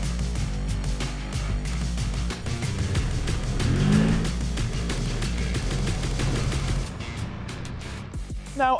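A 2025 CFMOTO CFORCE 1000 Touring ATV engine with drive-by-wire throttle revs on a trail, its loud, steady drone swelling and climbing in pitch midway before easing off near the end.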